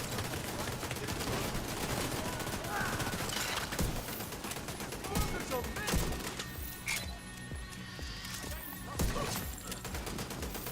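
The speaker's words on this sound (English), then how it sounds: "This rifle doesn't blind fire very well, does it?" A rifle blind-fires during combat in The Division 2 in rapid, sharp bursts of shots that mix with crashes and mechanical clatter amid a busy, loud battle soundscape, with a voice heard at moments.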